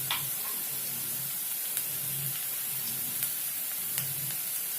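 Soya chunk Manchurian sizzling steadily in a pan at close range, a soft continuous frying hiss with faint clicks and light stirring as soy sauce and other sauces go in, no talking.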